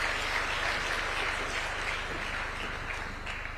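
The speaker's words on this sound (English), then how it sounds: "Please, a round of applause one more time for His Excellency" A hall audience at an awards ceremony for best TV drama gives a round of applause for the president, a broad, steady wash of clapping that fades slightly toward the end, with a low hum underneath.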